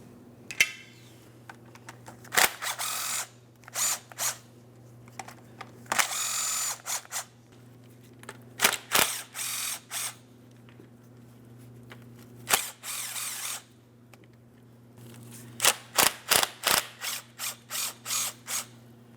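Ratchet clicking as bolts are backed out of the transmission pan on a 2004-2008 Pontiac Grand Prix 3.8L V6, coming in repeated bursts of rapid, close metallic ticks separated by short pauses, with no talking.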